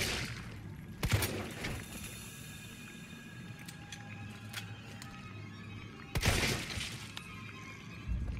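Two loud gunshots from Resident Evil 3 fired at spiders, about five seconds apart, each with a sharp crack and a crashing tail over a steady game ambience.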